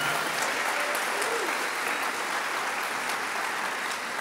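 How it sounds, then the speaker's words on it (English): Forum audience applauding sponsors, an even wash of many hands clapping at steady volume, close and continuous with no talk above it. "Yeah, you can applaud now."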